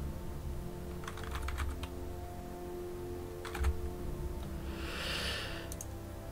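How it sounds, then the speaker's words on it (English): Rapid typing on a computer keyboard, with bursts of quick key clicks separated by short pauses, quiet and close over a steady low hum, with no talk. "Just doing really quick typing"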